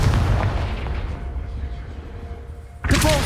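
Confringo blasting spell explosion in Hogwarts Legacy, a heavy booming impact that rumbles and fades, then a sharp burst of new effects right at the end, with a voice present.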